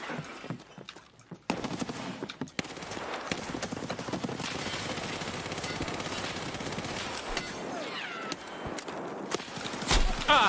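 Dense, sustained automatic gunfire from a firefight against Killa in Escape from Tarkov, rapid bursts rattling almost continuously for several seconds amid mixed game noise, with a brief quieter gap early on.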